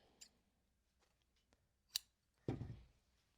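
Scissors snipping through fabric while cutting pieces for a quilted backpack: a few quiet, separate snips in a hushed room, ending in one longer, fuller cut.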